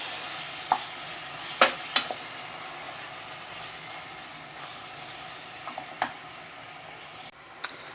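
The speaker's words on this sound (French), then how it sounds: "Et on laisse mijoter quelques minutes." Ratatouille vegetables with added tomatoes simmer in a pan, giving a soft continuous sizzle and bubbling with a few faint clinks and stirs, quiet and close, with no talking.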